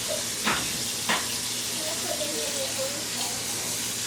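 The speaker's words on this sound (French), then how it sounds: "Et on va mettre de l'eau." Water is poured into a saucepan holding salted pasta and minced meat, a soft steady trickle with a couple of brief splashes, faint and indoors, with quiet background noise.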